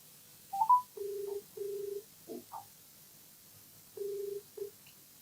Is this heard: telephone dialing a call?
yes